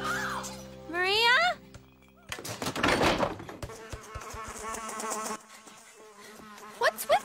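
A cartoon bee buzzes in short bursts among comic sound effects, a loud crash and a smashing clatter, with rising whistles and a busy mix of cartoon noises.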